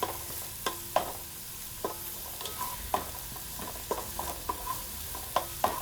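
Chopped onion sizzles in hot tempering oil for a crab curry, with a steady frying hiss under repeated sharp scrapes and clinks of a spoon stirring the pan, close and moderately loud, no voices.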